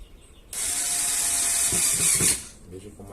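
An Arno Turbo Silence Force 40cm fan runs loudly with a broad rushing whir and a rattling, grinding mechanical noise that cuts in abruptly, holds for about two seconds, then stops, leaving faint knocks.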